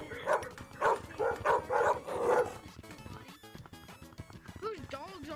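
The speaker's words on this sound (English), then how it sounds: "Whose dogs are in the background?" Several dogs barking in quick bursts in the background during the first half, sharp yips repeating, then a person talking over quieter noise.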